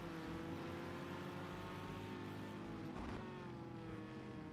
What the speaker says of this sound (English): Hear the engines roar on downshift.